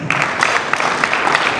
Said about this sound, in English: I think we should clap for that